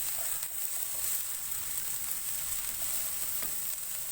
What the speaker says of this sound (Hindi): अब मैं इसमें कैबेज ऐड करूँगी। 1-2 मिनट इसको फ्राई किया है।